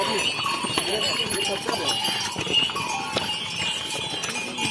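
Horse hooves clip-clop along a snowy mountain trail on the Kedarnath pilgrimage route, with steady close steps and faint bell-like jingles under people talking.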